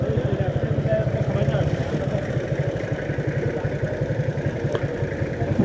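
A motorcycle engine throbs in fast, even pulses on a hilly road in Bandarban, loud and close, while voices talk over it.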